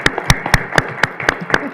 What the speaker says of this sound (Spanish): Para la cual pido un aplauso.